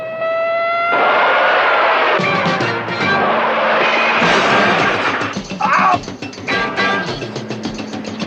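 A car crashing through the plate glass window of a suburban home, a loud sustained crash and clatter of breaking material over an engine drone, with scattered impacts trailing off.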